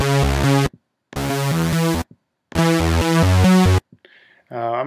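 Synth notes from a Thor multi-oscillator sawtooth patch, three sustained bright, buzzy chord bursts separated by short silences, followed by a quieter, thinner phrase at the end.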